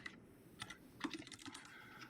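Computer keyboard typing during a coding puzzle session: scattered, quiet key clicks in short irregular bursts, close by, with no talking.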